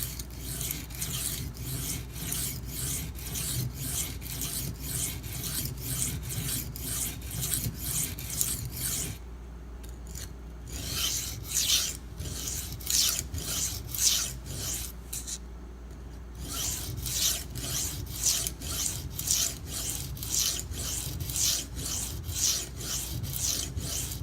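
A knife edge is worked by hand on a coarse Norton India sharpening stone, steady rhythmic rasping strokes back and forth with two short pauses, close and dry.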